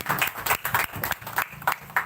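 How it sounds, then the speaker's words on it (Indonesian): A small audience claps for Kometa, an archery community from Tanjungan, in a few hands' uneven bursts, close and distinct, with a rhythmic, pulsing quality. "Tepuk tangan dulu dong buat Kometa."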